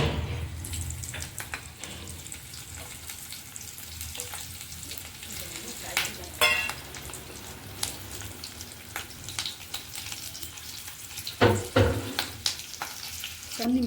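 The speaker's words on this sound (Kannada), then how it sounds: "ಈಗ ಶಾಲೋ ಫ್ರೈ ಮಾಡ್ಕೊಳ್ಳೋಣ ಒಂದೊಂದೇ ಹಾಕ್ಕೊಂಡು." Stuffed chillies shallow frying one by one in hot oil in a pan, a steady close sizzle with occasional louder bursts and crackles as pieces are added and moved.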